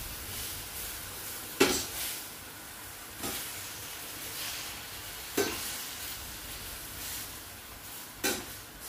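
Spinach being stirred and sautéed in a pan, a steady sizzling hiss broken by four sharp stirring scrapes spaced a couple of seconds apart, close and alone without talk.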